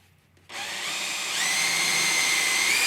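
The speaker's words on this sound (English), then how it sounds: "So we're going to drill right where that dimple's at." A power drill bores into the dash of a Club Car DS golf cart near the steering column, whirring up abruptly after a brief quiet and holding a loud, steady, slightly rising whine.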